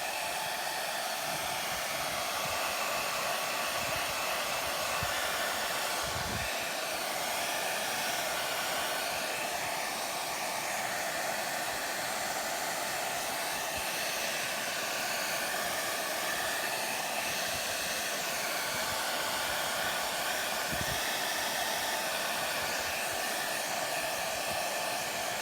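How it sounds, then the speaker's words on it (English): A handheld blow dryer runs continuously at close range over a mould casting, a loud, steady airy whoosh with slight shifts as it moves, and no voices. "I'm gonna grab my blow dryer and dry this really quickly."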